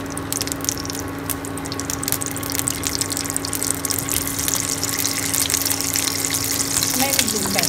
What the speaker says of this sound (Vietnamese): Dầu thật là sôi rồi thì các bạn cho trứng vào cho mình.